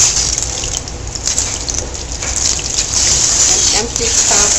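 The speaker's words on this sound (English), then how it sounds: "let the water flow down the drain" Running water gushes and splashes steadily while a cat is rinsed during a bath, the flow close and continuous and draining away, with speech over it.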